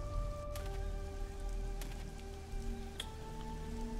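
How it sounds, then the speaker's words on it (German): Steady rain pattering on a surface in the video game Risen, a constant hiss with occasional drips, alongside sustained tonal game music and no speech. "es pisst schon wieder. Regnet aber auch dauernd in dem Kackspiel"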